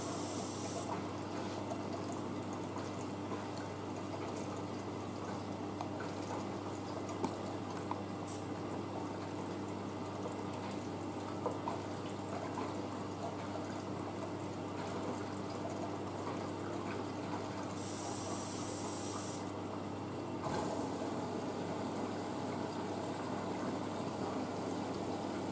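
Blomberg WNF9448 washing machine on a Cottons 40 cycle drawing in water and fabric conditioner, a steady rushing fill with a low pump hum running continuously, close and even throughout.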